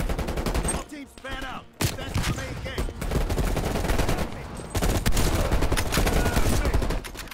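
Sustained gunfire in Call of Duty Black Ops Cold War, loud, dense bursts of shots and automatic fire running almost continuously, with a brief lull near the start and some game sounds mixed in.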